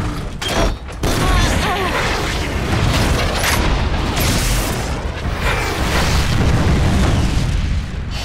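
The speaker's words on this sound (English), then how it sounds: "Micro-missile, fire!" Cartoon micro-missiles fired by a transforming robot car in a battle: a sharp launch burst gives way to a dense, loud roar of explosions and rumbling blasts that continues for several seconds.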